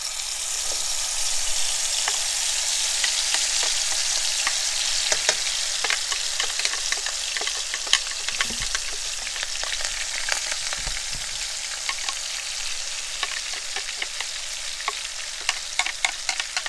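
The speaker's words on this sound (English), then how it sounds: "we've got our wok heated with about 1/4 of a cup of oil, and we're ready to fry our sambal" Sambal chili paste fries in about a quarter cup of hot oil in a wok, with a loud, continuous sizzle dense with crackles and pops that runs steadily throughout.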